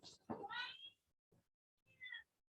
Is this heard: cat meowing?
yes